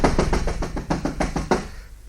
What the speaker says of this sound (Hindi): ये खटखटाहट कब तक सुनते रहोगे?